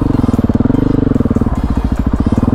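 A KTM 500 EXC-F dual sport motorcycle held in third gear, its single-cylinder engine thumping in a fast, steady pulse, loud and close, with a slight shift in tone midway.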